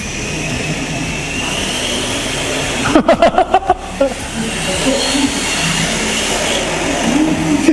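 A Re-R Hybrid RC drift car's tires spin on the K-stadium track with a continuous whirring buzz and a brief burst of rapid clicking midway, while people talk nearby.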